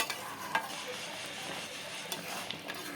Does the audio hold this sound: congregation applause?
no